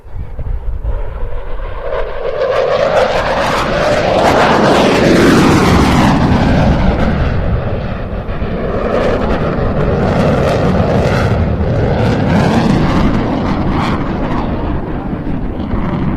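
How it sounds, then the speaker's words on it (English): A Dassault Rafale fighter jet roars through a flying display at the Bournemouth Air Festival, its loud, broad engine noise swelling and shifting in pitch as it passes close by, with wind buffeting the microphone. "as the aircraft decelerates from that 600-knot fast pass into the slowest manoeuvre"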